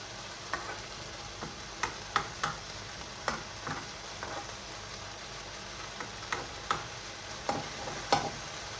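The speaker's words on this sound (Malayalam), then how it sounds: "ഇടയ്ക്കിടയ്ക്കൊന്ന് ഇളക്കി കൊടുക്കണം" Okra being stir-fried for Kerala vendakka mezhukkupuratti, a soft background sizzle broken by repeated light clicks and scrapes of a spatula against the pan.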